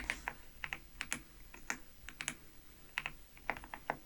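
Soft, close keyboard typing comes in quick irregular bursts of light key clicks with brief pauses, quiet and alone.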